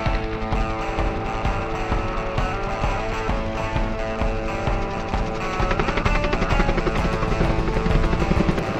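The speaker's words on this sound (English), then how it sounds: "that's why there's a helicopter in the air today." Loud, continuous rotor thump and engine roar of a helicopter flying overhead during emergency mountain pine beetle mitigation work by a timber crew, steady throughout and swelling slightly near the end.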